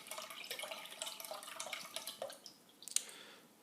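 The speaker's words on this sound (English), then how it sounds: "So we pour that broth in here" Homemade vegetarian broth is poured into a pot, a faint, uneven splashing and dripping stream with small clinks near the end.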